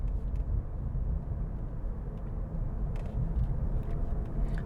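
A semi truck engine rumbles low and continuously in the background of an outdoor scene, a steady, moderately quiet drone with a few faint clicks and knocks on top.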